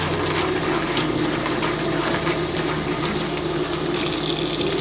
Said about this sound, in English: And then we're going to rinse it.